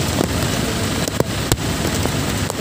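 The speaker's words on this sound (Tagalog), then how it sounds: "Wala akong makita sa daan, sobrang lakas ang ulan." Heavy rain pours steadily in a dense, rushing hiss, with gusts of wind and a few sharp knocks close to the microphone.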